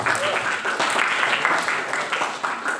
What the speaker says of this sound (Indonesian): tepuk tangan dulu dong buat kita semuanya